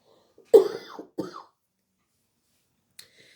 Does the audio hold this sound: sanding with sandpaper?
no